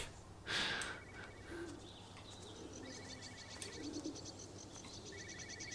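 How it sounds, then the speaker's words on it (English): Pigeons cooing in the video game Everybody's Gone to the Rapture, a soft coo early on followed by faint repeated chirping birdsong over a quiet ambient background. "I've heard a couple of pigeons."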